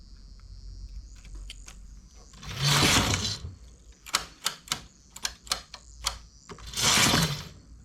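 A knitting machine stitches a finishing edge onto a knitted piece with two long, loud carriage sweeps. Between them comes a run of sharp, quick mechanical clacks, with a faint hum underneath.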